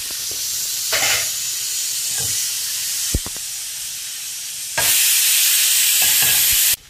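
Pav bhaji buns sizzle in butter on a hot pan, a steady bright frying hiss that swells louder partway through, with a few soft scrapes and taps from the pan.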